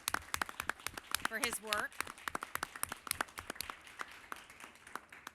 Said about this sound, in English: I'd like to give him a round of applause in appreciation